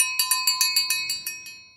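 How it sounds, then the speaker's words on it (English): A cowbell struck repeatedly like a dinner bell, about nine bright metallic clangs in a fairly steady rhythm, loud and close with ringing overtones that fade toward the end, no talking. "It's a cowbell, but it sounds like a dinner bell."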